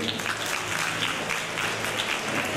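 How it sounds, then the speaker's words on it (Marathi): Audience applause at an art exhibition opening, a steady dense wash of many hands clapping throughout, moderately loud with no pauses. "त्याबद्दल एकदा जोरदार टाळ्या झाल्याच पाहिजे."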